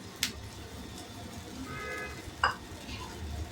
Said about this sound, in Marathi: तर वरतून आपण याच्यावर तेल सोडूया.